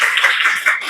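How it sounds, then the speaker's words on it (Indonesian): A roomful of people clap together at a school guidance session on managing emotions, giving a brief, dense burst of overlapping claps that fills the whole moment. "Boleh tepuk tangannya?"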